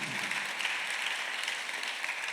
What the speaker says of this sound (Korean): 박수 하나 더 해서